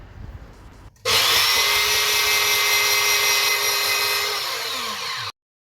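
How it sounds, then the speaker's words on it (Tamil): A Moulinex electric vegetable cutter motor starts abruptly and runs with a loud, steady whine for about four seconds, then cuts off sharply, close by, with no talking over it. "மௌலினிக்ஸோட இந்த வெஜிடபிள் கட்டர் ரொம்ப யூஸ்ஃபுல்லாக இருக்கும்"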